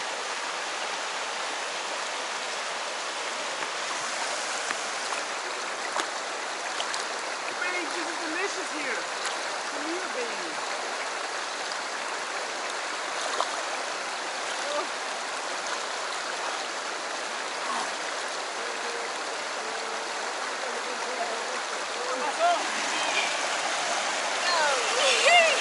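A river stream flows in a steady, broad rush of water close by, constant and fairly loud for the whole stretch, with occasional voices mixed in.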